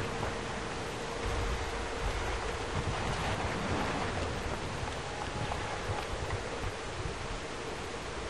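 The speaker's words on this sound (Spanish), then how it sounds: "Quería mostrarte esta bella cascada junto a esa dama." Steady rushing water from a waterfall in BioShock Infinite, a broad even roar that holds at the same level throughout, with no voices over it.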